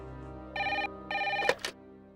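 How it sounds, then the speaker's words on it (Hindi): A telephone rings close by with two short bursts of electronic trilling, followed by a brief clatter as the handset is picked up. "फोन बज रहा है"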